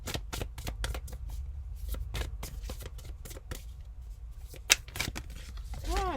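Tarot cards are shuffled by hand, a rapid run of crisp riffling flicks repeating close to the listener, ending with a faint rustle and a soft bump, and no voice over it.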